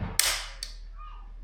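A mechanical trigger on a Yildiz SPZ steel-action competition shotgun is dry-fired, giving a sharp, close metallic snap followed by a second fainter click and another snap at the end, all in near silence.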